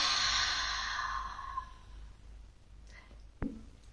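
A long, audible exhale through the mouth during a seated beginner yoga breathing exercise, a breathy sigh that fades over a couple of seconds, followed by a faint rustle and a brief soft knock.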